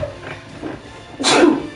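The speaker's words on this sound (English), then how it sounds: "I gotta sneeze" A single loud sneeze bursts out near the end, preceded by a few quieter breathy sounds, close to the listener.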